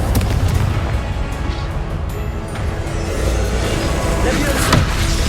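A Confringo explosive spell bursts in Hogwarts Legacy with a loud, rumbling boom that rolls on as a sustained blast and crackle through the whole stretch, near and heavy.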